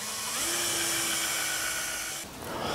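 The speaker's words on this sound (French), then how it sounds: "pour faire deux trous pour visser" A small electric drill bores a screw hole in a homemade wooden shelf with a steady high whine running for about two seconds, then it briefly dips and starts again; close and loud, no talking.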